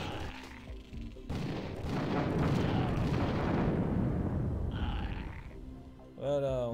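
A grenade goes off in Killing Time: Last Rites with a loud, sustained blast and rumbling roar that swells and slowly fades over several seconds, followed by a brief voice-like sound near the end.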